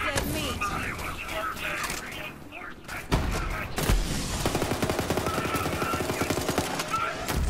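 Rapid automatic gunfire in the Borderlands 3 video game, bursts of sharp cracks and booms with a player talking over the shooting throughout.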